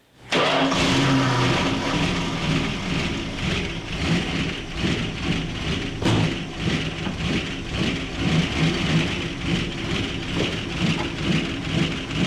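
A 1970 Dodge Charger V8 that sat for 20 years starts abruptly and runs loud and close with a rough, uneven idle. A steady rumble continues throughout, broken by a brief sharp knock partway through.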